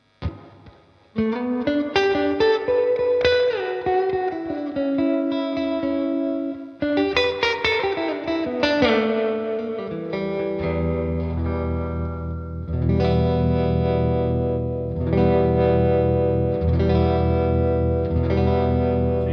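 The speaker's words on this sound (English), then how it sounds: "we're using a Strymon Flint. With some trem and reverb." 1962 Fender Jazzmaster electric guitar through a Strymon Flint pedal, playing chords and melodic lines, drenched in reverb with a pulsing tremolo effect, moderately loud and without talk.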